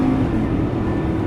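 Lamborghini Gallardo LP550-2 engine pulling hard out of a tight corner on track, a loud, close, steady mechanical drone filling the short moment.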